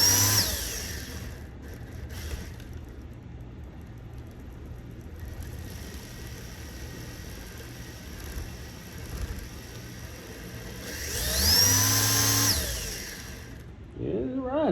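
An RC drift car's electric motor driven by a new 70-amp ESC at half throttle gives a steady whirring whine that swells into a louder rising and falling burst near the end, close to the microphone.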